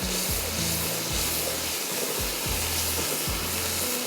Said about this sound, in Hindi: ज़रा सा फ्राई कर लें 5 मिनट ताकि प्याज की जो कच्चापन है वो निकल जाए